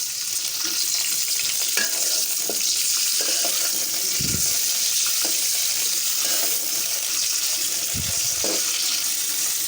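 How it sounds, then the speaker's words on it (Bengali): Cauliflower fries in hot oil in a pot for aloo-cauliflower pulao, giving a steady, loud, unbroken sizzling hiss with a couple of brief low thumps. "হাঁড়ির মধ্যে দিয়ে দিচ্ছি তেল, দিয়ে দিচ্ছি ফুলকপি"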